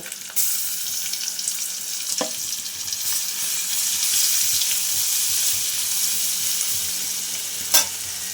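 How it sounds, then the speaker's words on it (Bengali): Garlic frying with browned onions in a pan for crab curry, a continuous close hiss and sizzle with a few sharp clicks of utensils against the pan. "পেঁয়াজটা মোটামুটি লাল করে ভাজা হয়ে গিয়েছে, আমি একটু সাইড করে দিয়ে আর রসুনটা দিয়ে দেব"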